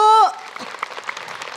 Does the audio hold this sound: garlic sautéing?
no